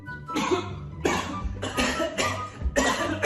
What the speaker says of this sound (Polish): tylko to jest zwykły kaszel